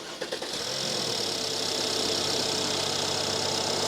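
A Mercedes-Benz engine with its drive belt removed cranks briefly and catches, then settles into a steady, close idle with a bright hissing whine.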